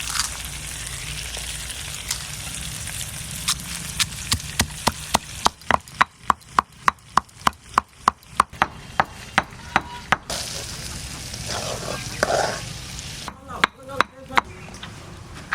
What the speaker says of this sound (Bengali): শুকনো লঙ্কা কাটা ভেজে রাখছিলাম গুঁড়ো করব